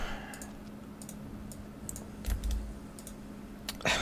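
Computer keyboard keys clack in an irregular stream of quick, soft clicks, with a few louder taps near the end, while someone plays the PC strategy game Warhammer 40K Dawn of War Soulstorm.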